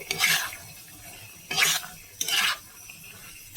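Pointed gourd and potato curry is stirred and scraped in a pan. Three separate scraping bursts come up close over a low, steady simmer.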